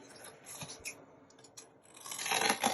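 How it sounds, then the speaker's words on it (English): Scissors trimming a paper book cover for a junk journal with soft rasping snips and rustling paper, growing louder and busier toward the end; no talking. "you could just trim this either with a blade or even with scissors"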